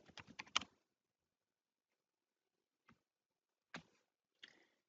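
Sparse keystrokes on a computer keyboard while code is entered: a quick burst of clicks, then a pause and a few isolated taps, faint and alone.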